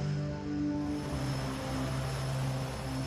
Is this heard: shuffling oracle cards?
no